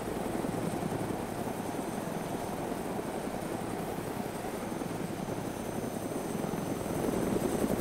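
Helicopter in the video game DayZ Origins, a steady rhythmic rotor chop and engine drone held close and constant, with no talk over it.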